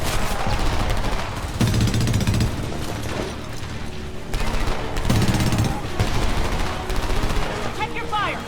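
Heavy gunfire rattles through a battle in the shooter Homefront, with loud rapid bursts and fusillades of automatic weapons that start and stop repeatedly, mixed with shouted voices and other combat noise.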